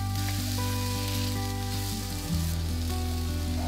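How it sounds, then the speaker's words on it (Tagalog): Sliced sweet potato frying in oil: a constant, dense sizzle throughout, close and fairly loud, with a steady low hum underneath and no speech. "Isunod nating iprito ng bahagya itong hiniwang kamote."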